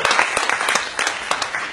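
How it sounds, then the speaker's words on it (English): A live audience applauds at a libertarian talk event, close and fairly loud clapping with distinct individual claps standing out from a continuous dense patter. "give them a round of applause."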